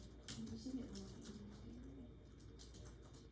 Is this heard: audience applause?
no